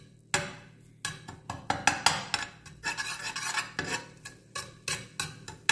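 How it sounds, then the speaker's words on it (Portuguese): Garlic being stirred into a pan for oven-baked brown rice: repeated scraping and clinking strokes of a utensil against the pan, close and fairly quiet, in irregular bursts with no talking. "Aí você vai aqui colocar o alho, só para ele soltar mais o cheirinho dele."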